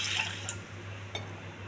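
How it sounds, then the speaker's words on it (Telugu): Water is poured over soaked red rice in a cooking pot, giving a brief close trickle with a couple of drips over a low steady hum. "ఈ గ్లాస్తో 4 గ్లాసులు వాటర్ వేయాలండి."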